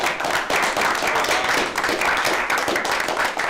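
Audience at a talk clapping together in a steady, even wash of applause from many hands.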